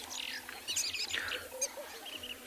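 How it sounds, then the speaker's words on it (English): Several birds chirp and call at a South African waterhole in the afternoon, overlapping bright tweets from nearby at moderate loudness over a soft outdoor background. "You can see the bird activity picking up quite a bit now."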